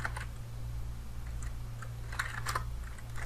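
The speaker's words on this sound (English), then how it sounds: "So if we write here ifconfig," Quick light clicks of a computer keyboard come in small bursts as a command is typed, faint over a low steady hum.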